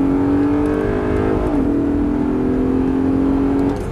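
An Audi R8 accelerates hard on a race track, its engine loud and close with a rising whine that drops briefly at a gear change, then climbs again before easing off.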